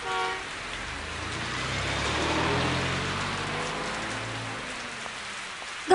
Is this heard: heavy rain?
yes